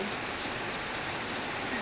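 Steady rain pattering on mango trees and leaves, a soft even hiss of drops at moderate distance with no voices.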